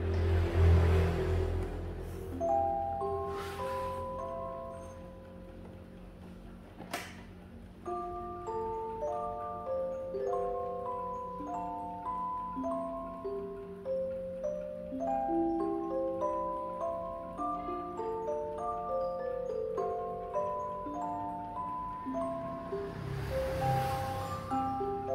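A Japanese clock standing 53.5 cm tall plays its music mode, a chiming melody of clear, tinkling notes in a steady tune, heard close with faint background noise and bursts of handling at the start and end.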